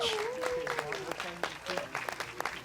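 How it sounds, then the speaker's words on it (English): Applause from a concert audience for the Harding Stardusters band, a continuous patter of clapping heard at a moderate distance, with a voice speaking over it. "One round of applause for them."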